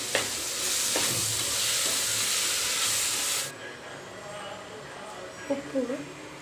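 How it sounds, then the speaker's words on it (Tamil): Beetroot pulao mixture with yogurt and salt being sautéed and stirred in a pan, a steady close sizzle with spoon scrapes that drops quieter partway through, a voice briefly heard near the end. "உப்பு போட்டு நல்லா வதக்கி விட்டுக்கலாம்."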